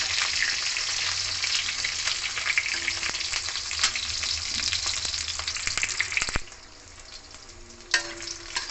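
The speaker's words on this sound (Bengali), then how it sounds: "বেগুনটা একটু লাল লাল করে ভেজে নেবো।" Brinjal fries in hot oil for a vegetarian mixed-vegetable curry with jackfruit seeds, a steady close crackling sizzle with faint scraping that drops suddenly to a quieter simmer near the end.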